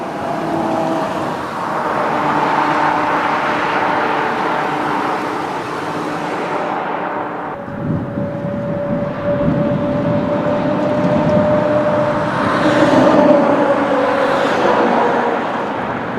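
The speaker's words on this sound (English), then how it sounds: "We're on a busy highway area here. We should have a bunch of traffic" Busy highway traffic on a windy day, a continuous loud roar of passing cars and engines with rising and falling swells as vehicles go by, wind buffeting close to the microphone.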